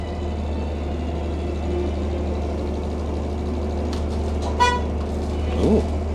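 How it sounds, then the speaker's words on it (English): A bus horn toots briefly in the middle of steady traffic rumble near LAX, heard against the constant low drone of road vehicles and engines. "Bus driver honking."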